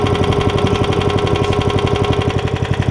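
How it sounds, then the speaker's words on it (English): A Briggs & Stratton engine on a 1996 Toro Super Recycler lawn mower idles steadily, a loud, close, even rapid chugging throb that runs throughout without a break. "Look at how sweet that Briggs Stratton idles."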